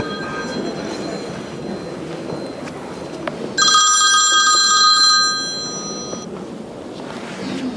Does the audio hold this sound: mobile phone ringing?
yes